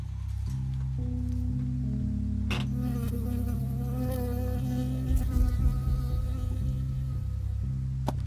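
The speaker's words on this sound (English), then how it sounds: "I got stung by a bee." A bee buzzing steadily and close in the forest game Firewatch, a continuous insect drone over layered low musical tones, with no voices.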